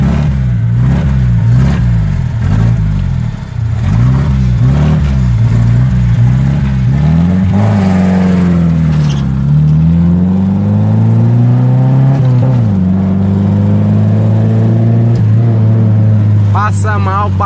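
A 1982 Chevrolet Opala four-cylinder engine revs loudly up close, its pitch climbing and falling through repeated throttle blips over a steady rumbling idle, with voices talking faintly beneath.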